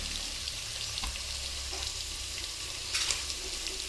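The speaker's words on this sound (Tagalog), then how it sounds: "ilagay na natin yung mga lamang loob" Innards fry in a pan with a steady close sizzle and crackle, moderately loud, with a few soft stirring scrapes over the top.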